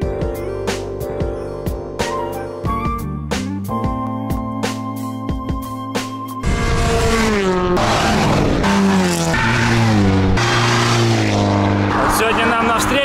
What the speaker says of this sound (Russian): уже не первый десяток спортивных машин